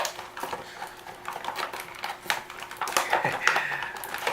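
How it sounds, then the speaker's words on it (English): Tape being pulled open on the packaging of a Ready2Robot toy figure, a close run of dry crackling, ticking and tearing, busiest near the end. "he's held in with, yes, more tape. We're just going to pull that open this time"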